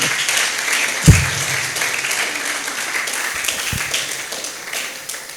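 Church congregation applauding during a French-language sermon, a dense even patter of clapping that carries on throughout, with a sharp thump near the start and another soft knock later.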